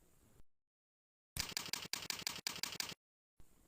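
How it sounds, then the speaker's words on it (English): Keys on a computer keyboard are tapped in a quick run of about eight evenly spaced clicks as a username is entered, fairly close and alone between stretches of silence. "Type your username."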